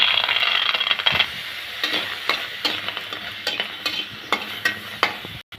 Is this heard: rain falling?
no